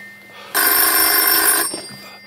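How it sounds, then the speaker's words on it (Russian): Telephone bell rings once in a loud, continuous burst lasting about a second, close by, with a quieter tail afterward. "телефон мешает. Ответьте."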